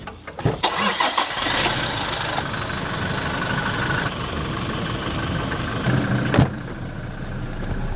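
A Toyota Fortuner's engine cranks after a few clicks and catches, then settles into a steady, close idle.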